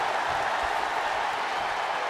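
Capacity crowd in a wrestling arena during a tag team match, a steady wash of cheering and applause with no breaks, heard alone.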